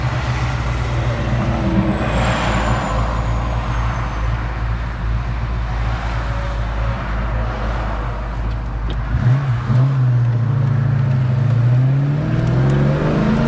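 A 1990 Saleen Mustang Fox body's V8 drones steadily while driving, then rises in pitch as it accelerates through the gears, a loud, close engine roar from inside the car.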